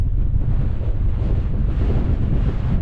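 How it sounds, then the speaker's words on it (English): Strong wind buffeting a GoPro Hero 10 microphone outdoors, a loud, continuous low roar and rumble with gusty flutter throughout, no voices. "Told you it was windy."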